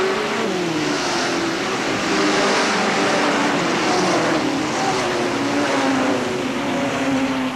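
Sportsman race cars at Hales Corners Speedway roar in a continuous loud drone as the field circles the track, engines blending into a steady wash of noise with a few rising and falling tones.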